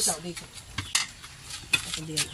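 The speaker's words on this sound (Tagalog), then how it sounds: "Ito daw po ay halo ng halo." Biko, a sticky rice cake, is stirred continuously in a pan, with close scraping and clinking strokes of a spoon against metal at an irregular rhythm, faint and intermittent.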